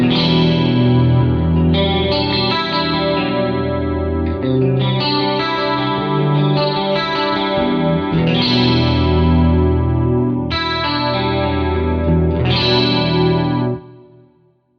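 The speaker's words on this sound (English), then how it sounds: "These chords are my go-to anytime I have a real glistening clean sound with chorus and pitch detune" Clean electric guitar chords shimmer with a wide chorus and pitch-detune wash, strummed in sustained sections over about fourteen seconds before ringing out to silence.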